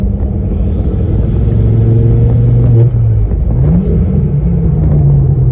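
A Ford Focus ST225 engine revs up loudly, its pitch rising steadily, dips briefly, then climbs again in a continuous accelerating drone.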